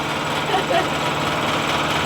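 Steady droning hum of an American Airworks dive air compressor, converted from a gasoline engine to an electric motor and powered by a generator, running continuously under a short stretch of talk.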